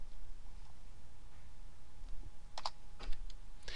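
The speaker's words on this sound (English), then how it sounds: "I'm going to hit F2" Computer keyboard keys are pressed while working in an Excel spreadsheet. A few close, sharp clicks fall near the end over quiet room tone.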